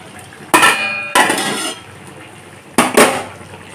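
A metal plate used as a lid clatters off a pot of chicken kosha with potatoes simmering on a low flame. Three sharp metallic clanks ring out, each with a short ringing tail.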